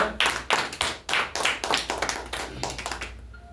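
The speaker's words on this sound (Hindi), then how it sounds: "यीशु के लिए ताली मारेंगे" A church congregation claps in praise of Jesus, rhythmic rounds of close, crisp hand claps in steady pulses that thin out and fade toward the end.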